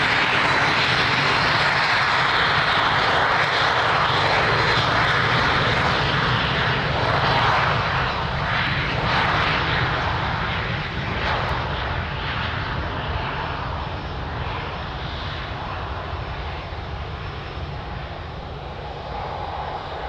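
An airliner's engines roar on the runway at Lisbon Airport during takeoff, loud and sustained, slowly easing as the aircraft pulls away, with no talk.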